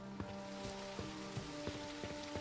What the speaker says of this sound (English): I like the rain. The rain is very calming.